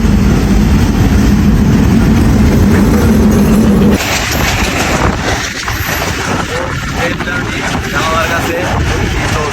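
A train pulls in and runs past at a station near Jamuna Future Park in Dhaka, a loud steady rumble with wind buffeting the microphone, shifting to a rougher clatter partway through, with no talk.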